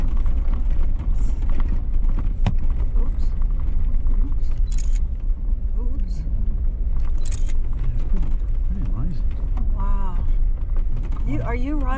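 A Jeep crawling along a bumpy desert trail among Joshua trees, a steady loud engine rumble with rattles and clunks from the body, while people chat and exclaim over it throughout.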